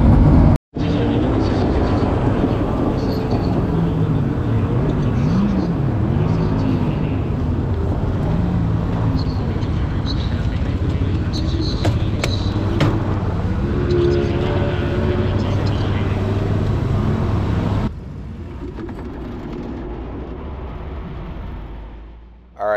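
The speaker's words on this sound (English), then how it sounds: "We're actually pulling on the track for a hot lap session." Sprint car engine roaring steadily on a dirt track during a Saturday night hot lap session at the Eldora 4 Crown event, loud and close, with pitch rising and falling through laps before abruptly dropping off near the end.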